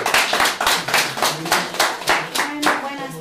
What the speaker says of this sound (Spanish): una vez más, un fuerte aplauso